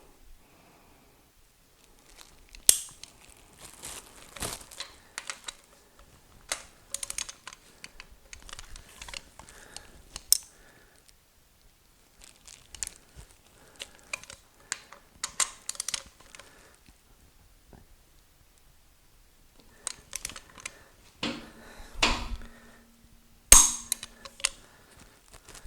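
A torque wrench tightens cylinder head bolts to final torque on an Oldsmobile 455 V8 fitted with Edelbrock RPM heads, producing bursts of rapid ratchet clicks and sharp snapping clicks spread across a quiet garage.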